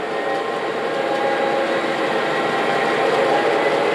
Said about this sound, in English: Engine goes up to medium speed.